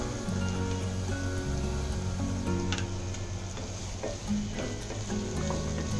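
Grated fresh coconut roasting in a hot pan, sizzling steadily and close up, with occasional soft scrapes from stirring.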